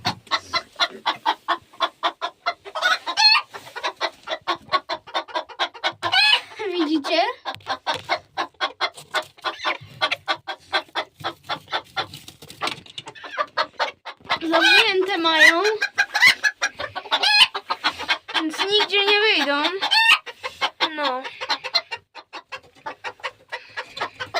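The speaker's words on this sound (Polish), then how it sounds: "Kury tutaj sobie siedzą." Hens roosting on a perch cluck busily and almost without pause, close and lively, with a rooster's calls rising among them and faint voices in the background.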